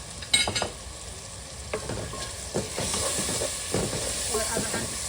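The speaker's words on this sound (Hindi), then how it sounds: "और अब हम इसको अच्छी तरीके से भूनेंगे।" Chicken and potato salan with homemade garam masala fries in a pan, giving a close steady sizzle and hiss broken by short scraping stirs of a spoon, with no voices over it.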